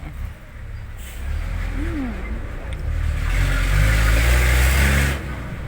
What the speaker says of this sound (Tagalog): Maingay yung sasakyan.